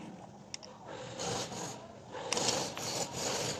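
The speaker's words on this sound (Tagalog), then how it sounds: "Natanggal natin yung tornilyo niya. Isa-isa lang." Screws are loosened and backed out one at a time from the coolant housing of a 2022 Changan Eado Plus, giving close, rough scraping and rubbing bursts with a light metallic click.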